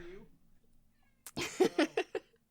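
A house cat meows several times in quick succession close to a microphone, after a stretch of faint voice and quiet background.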